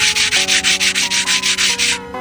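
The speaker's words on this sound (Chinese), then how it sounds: "找张砂纸，把刹车片上的硬点都给它打磨掉。" Car brake pad being rubbed with sandpaper to grind off hard spots, a loud close rasping in quick regular strokes, about a dozen in a row, with a faint steady hum underneath.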